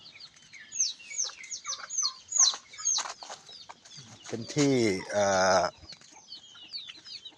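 Red junglefowl cluck and chatter in a series of short calls, with a louder drawn-out crow-like call near the end and a brief voice in the background.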